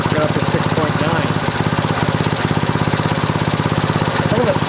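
A 1964 Honda S90 motorcycle's small engine runs with a fast, steady, rattling pulse, loud and close throughout, with a slight rise as it is revved.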